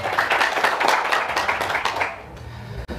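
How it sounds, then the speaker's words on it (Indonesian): Dense audience clapping at an evening gathering of PPNS civil servants in DKI Jakarta, loud and steady for about two seconds before thinning out into a quiet room. "Tepuk tangan untuk kita semua."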